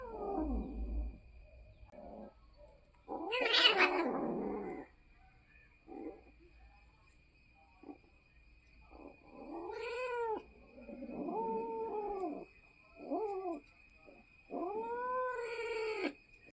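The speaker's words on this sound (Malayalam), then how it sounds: "കുഞ്ഞി പൂച്ച അവൻ്റെ അനിയത്തി പൂച്ചയുടെ കൂടെയുള്ള ഒരു കുഞ്ഞു യുദ്ധം" Kittens yowl and caterwaul in a series of drawn-out, rising and falling cries with short gaps, plus a brief scuffle-like burst early on, fairly close.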